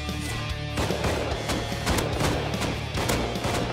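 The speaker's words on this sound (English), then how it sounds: "We're getting shot at behind us!" Rapid gunfire in the survival game Rust, a steady stream of sharp, loud shots and bursts over a constant droning background with no voices.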